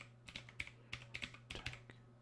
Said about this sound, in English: Type in my username and password.